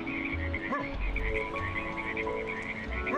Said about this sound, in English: Those were actually how loud the frogs were during the sunset.